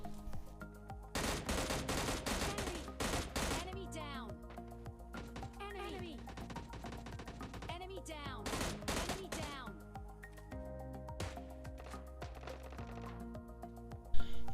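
Gunfire in PUBG Mobile Lite as a player shoots at a board in a house: rapid bursts and volleys of shots among game effects, with talk over the top.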